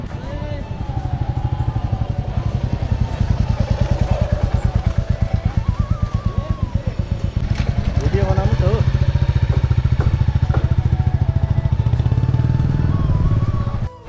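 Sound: motorcycle engine running

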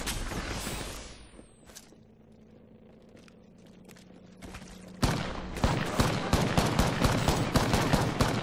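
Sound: gunfire in video game Apex Legends

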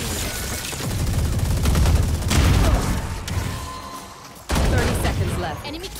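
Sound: Odin machine gun fire in Valorant video game

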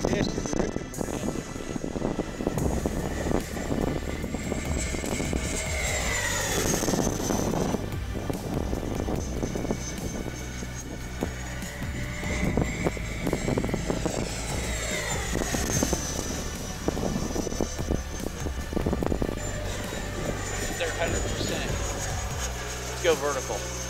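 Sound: E-flite 90mm Viper RC jet flying

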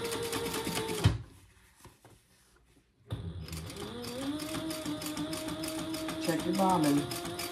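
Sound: sewing machine top stitching a handbag seam

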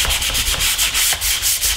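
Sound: sanding a wooden frame with 220 grit sandpaper

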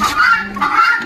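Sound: silver pheasant calling

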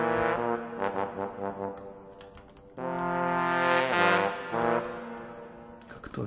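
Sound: Sample Modeling trombone virtual instrument playing legato

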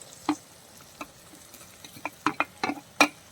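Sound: sautéing sliced onions and shallots in a pan

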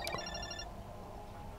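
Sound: mobile phone ringtone ringing nearby

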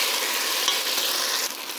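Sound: meatballs frying and caramelizing with sugar in a pan

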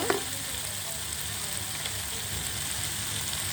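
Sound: boiled taro stolons added to sizzling spice paste in pan

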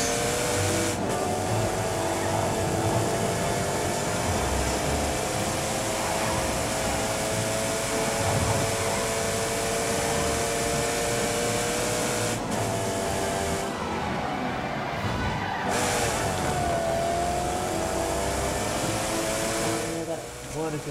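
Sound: Jim Clark's Lotus race car engine in The Grand Tour video game

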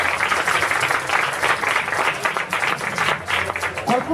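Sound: audience applause for the author at a book presentation

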